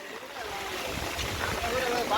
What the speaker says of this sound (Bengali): প্রচুর বাতাস, বাতাসে আমার ছাতা উড়ায় নিতেছে